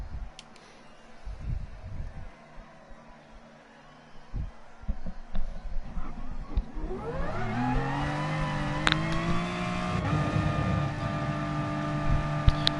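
A BMW M4 race car in a GT Sport replay, its engine low and quiet at first, then climbing into a loud, steady revving drone with rising gear pitches over the second half.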